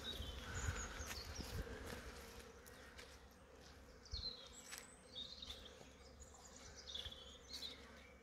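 Honeybees fly in and out of a hive outdoors, a steady low buzzing drone with individual insects passing close now and then, faint birds chirping in the background.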